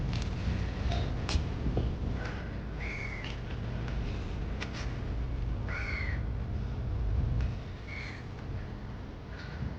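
A large crow near a beach on Farasan Island gives several harsh, separate caws over steady wind and water noise, with some calls sounding closer than others.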